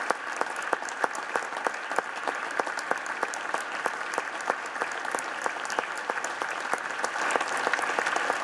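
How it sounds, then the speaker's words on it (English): Sustained applause from a crowd at an impeachment hearing, dense steady clapping with sharp individual claps standing out, continuing at an even level throughout with no talking. "They did not motion for an extra 5 minutes of clapping."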